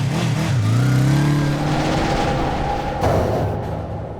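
A motorbike engine revs up loud and close, its pitch rising and then holding as the bike pulls away, followed by a sudden shift and a steadier fading drone.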